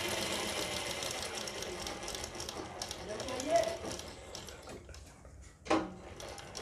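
A sewing machine runs a line of stitching to attach a neck patti on a front and back collar design, a faint, steady whirring hum with small ticks, under low talk.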